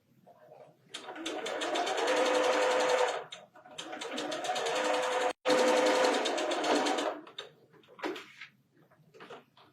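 A sewing machine stitches quilt pieces with a quarter-inch presser foot for a four-patch star block, running in two long steady bursts of rapid needle chatter with a brief stop between, then short stuttering runs.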